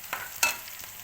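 Cauliflower curry fries in a pan with a soft, steady sizzle, broken by a few brief stirring scrapes, close and fairly quiet with no voices.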